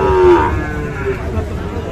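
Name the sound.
Sahiwal cattle mooing at a cattle market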